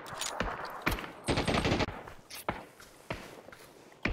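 Gunfire in PUBG: scattered sharp single shots at moderate distance, with a brief dense burst midway, over quiet background rustle and no speech.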